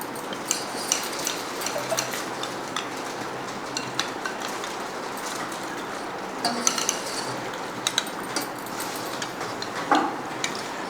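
Appam bread being mashed into milk for pudding, with a steady wet stirring and scraping underlaid by small utensil clicks and ticks against the vessel, close and continuous without talking.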